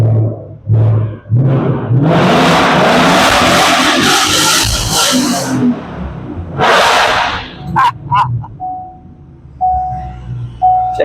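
A 2020 Mustang with a newly welded exhaust revs hard, roaring loudly for several seconds before easing off into lower rumbles and short bursts, with brief voices nearby.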